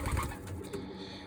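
Pigeons coo softly nearby, a brief low cooing burst alone in a quiet setting with no talk.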